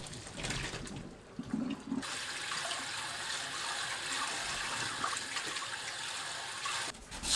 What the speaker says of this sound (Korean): 1분 후 찬물에 헹굽니다.